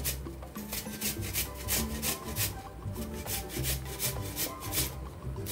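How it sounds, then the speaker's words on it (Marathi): Fresh turmeric root rubbed against a hand grater for pickle, a close, rhythmic scraping rasp repeating in quick even strokes with no talking. "आता मी ह्या किसणीने असं किसून घेते"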